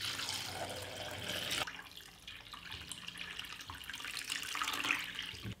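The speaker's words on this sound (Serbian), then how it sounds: "U šerpu sipam vruću vodu do visine poklopca." Hot water pours into a pot lined with a cloth and holding jars, a steady rushing splash that shifts in tone midway and continues at moderate loudness, with no voices.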